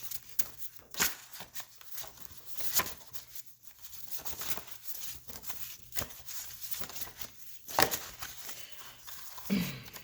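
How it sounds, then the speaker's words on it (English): Tarot cards are pulled and shuffled from a deck, giving soft, faint papery slides and flicks that come in short irregular bursts over a quiet room. "So I'm going to pull some of those cards out."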